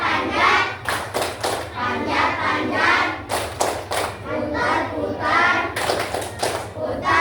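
A class claps hands together in rhythmic bursts of sharp, rapid claps with short pauses between, loud and close, while children's voices mix in.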